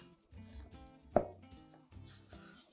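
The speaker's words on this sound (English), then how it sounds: "So now you're going to add your egg white into this." Egg white dropped into a mixing bowl while making macarons, one sharp wet plop partway through over faint background, with quiet movement around it and no talk.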